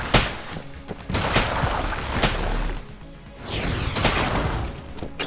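Rapid gunfire from a weapon in the video game Enter the Gungeon, sharp loud repeated shots with crashing impacts and bursts, dense and continuous throughout without speech.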